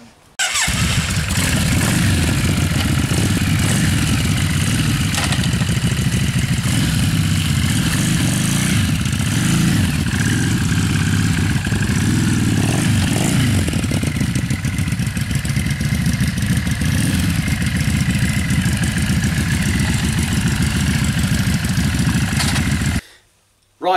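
A Yamaha XV 500 cafe racer's engine runs loud and steady close by in a garage, a continuous idle with slight fluctuations for about twenty-three seconds before cutting off abruptly.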